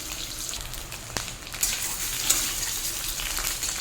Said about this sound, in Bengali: এবার এই দিকটা ভেজে নেব।